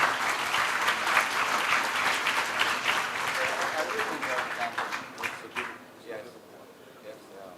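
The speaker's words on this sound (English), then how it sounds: "ladies and gentlemen, please give a big round of applause." An audience at a diplomatic conversation event with Minister Liu Jianchao gives a hearty round of applause, full and sustained, then thinning and tapering off toward the end.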